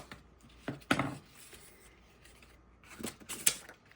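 Scissors trimming acetate and paper for handmade field-notes ephemera, with a few short crisp snips and rustles, close and fairly quiet, arriving in small clusters with pauses between them.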